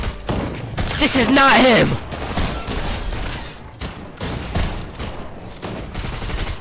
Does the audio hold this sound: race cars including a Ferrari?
no